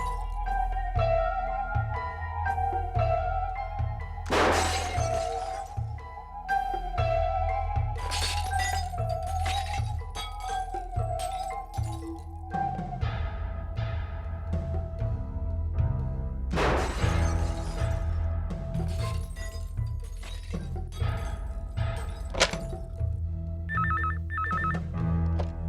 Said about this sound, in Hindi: यहाँ बिल्डिंग के इतने सारे कांच टूट रहे, इतना शोरगुल हो रहा